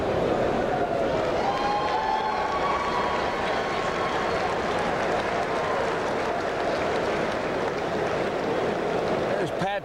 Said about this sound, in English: qui reçoivent une bonne main d'applaudissements